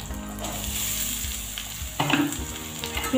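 Green moong dal is tipped into a pan of frying onion, tomato, ginger and garlic, giving a steady close sizzle with stirring scrapes and a brief louder burst as the lentils land.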